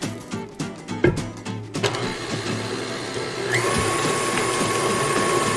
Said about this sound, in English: we're gonna turn on the mixer again